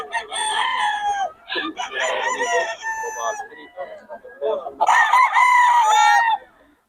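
Several roosters, high-station gamecocks in Bocaue, crow loudly one after another, long harmonic calls with brief gaps, the last crow the strongest.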